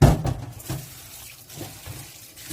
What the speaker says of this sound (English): let's drain it, and we can rinse in a cold water